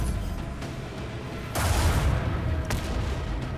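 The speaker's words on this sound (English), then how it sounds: "there go my torpedoes" Torpedoes launching in the space combat video game Rogue Trader, a brief booming blast followed by rumbling explosive bursts amid a dense, steady battle din, loud and near, with no talk.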